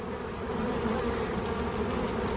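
A steady, dense buzz of many honeybees close by, continuous and fairly loud, with no voices, as bees are shaken for a varroa mite count.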